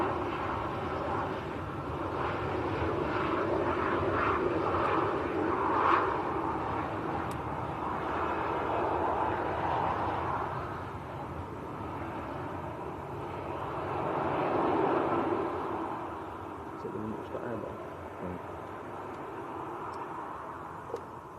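A Ryanair airliner climbs away from Manchester Airport, its broad engine roar steady and fairly loud throughout, swelling slightly in places as it passes overhead and recedes.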